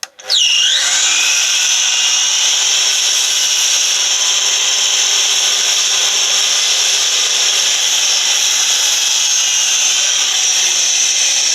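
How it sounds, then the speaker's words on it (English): A power saw cuts a wooden skirting board, spinning up sharply and then holding a loud, steady whining cut for over ten seconds, close and uninterrupted. "We'll cut it straight at the bigger section first"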